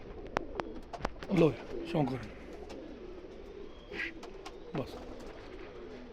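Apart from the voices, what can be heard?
pigeons cooing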